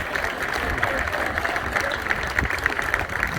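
Steady audience applause fills a youth football club academy presentation day, a dense, even wash of many hands clapping at close range with a faint murmur of voices beneath.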